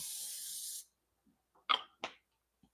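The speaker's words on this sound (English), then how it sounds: "This is canola oil spray. I just put a little bit on there." A short burst of canola oil cooking spray hisses onto a skillet for under a second, followed by quiet and a few faint clicks and handling noises.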